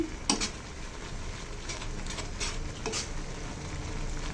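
Noodles cooking in a pan while being stirred, a constant soft sizzle with a few sharp utensil scrapes and taps against the pan near the start and later on.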